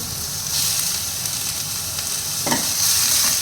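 Small boneless chicken pieces rubbed with garlic sizzle loudly in hot oil in a wok, a close, steady frying hiss with a brief stirring scrape and no speech.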